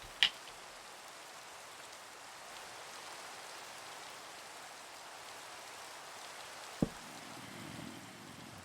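Steady rain falls across a video game landscape scattered with orange tulips, a soft continuous hiss that stays even throughout, broken by two brief sharp clicks near the start and end.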